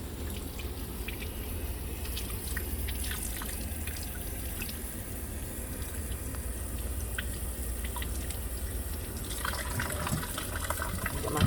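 Water runs steadily from a tap as a surgical scrub sponge is wetted during aseptic surgical handwashing, a continuous near hiss with faint drips and splashes, no voices.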